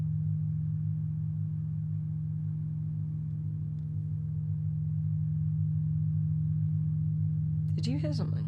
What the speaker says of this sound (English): It's like a humming.